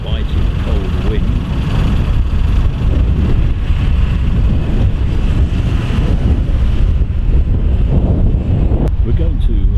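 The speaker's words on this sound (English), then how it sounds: "At the moment, with a biting cold wind." Biting cold wind buffets the microphone outdoors at a spring bus festival in Detling, a loud, steady roar that runs for the whole clip without letting up.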